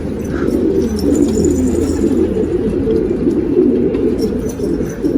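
Pigeons coo in a steady, low warbling chorus close by, with a few faint chirps and brief wing flutters as birds land.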